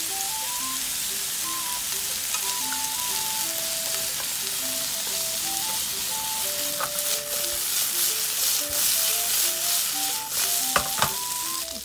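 Sugar and salted kombu sizzle and crackle as they are stir-fried in a pan, a continuous close frying hiss with occasional stirring scrapes beneath a light background melody.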